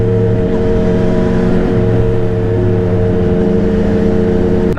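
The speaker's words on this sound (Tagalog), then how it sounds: "Grabe yung tunog ng ano 675 SR, naka-muffler na kasi yan mga men eh." A CF Moto 675 SR motorcycle fitted with an aftermarket muffler idles in a steady, loud, close drone with a deep even rumble throughout, and no one speaks.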